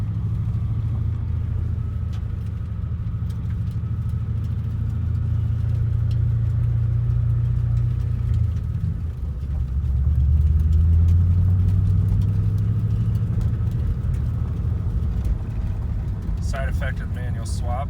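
A Lincoln Mark VIII car driving on the road after two years in storage, a steady low engine and road rumble heard from inside, swelling slightly as it accelerates, with someone talking over it.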